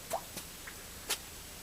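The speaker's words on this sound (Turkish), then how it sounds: "gördüğünüz gibi kömürlük deposundan akan suları görüyoruz" Water dripping in a coal storage room of a school: a few faint, separate drops and plops spaced irregularly over quiet background.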